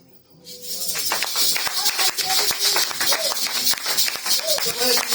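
A church congregation breaks into loud, sustained applause after a brief quiet start, with dense overlapping claps and crowd voices filling the room.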